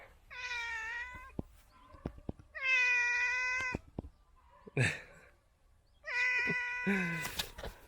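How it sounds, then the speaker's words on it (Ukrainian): A cat meows three times in long, drawn-out calls, close and fairly loud, with small clicks and rustling noises between the cries. "Це наш кіт, Семен звать."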